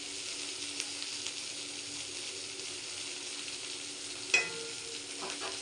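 Food frying in a pan gives a soft, even sizzle throughout, with one sharp clink of a utensil near the end and a few faint stirring scrapes.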